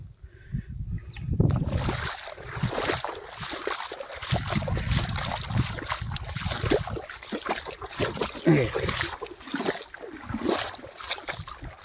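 Water floods off a waterlogged farm field, a close gurgling, splashing rush with irregular surges and sloshes, loud and continuous, with no talk.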